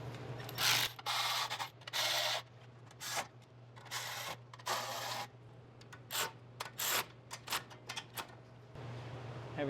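Carburetor nuts being tightened by hand on an Ariens 624 snow blower, heard as repeated bursts of scraping, ratcheting metal clicks and rubbing with short pauses between, close up over a steady low hum.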